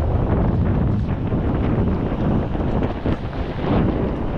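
Strong wind at sea roars and buffets the microphone continuously, with low rumbling gusts and a faint wash of water beneath.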